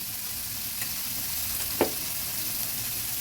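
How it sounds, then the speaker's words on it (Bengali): Potatoes frying lightly in a pan for a red spinach charchari, giving a steady close sizzling hiss with one brief clink of a utensil midway and no talking. "ভালো করে আলুটা ভেজে নিচ্ছি আলুগুলোকে হালকা ভেজে নিলাম"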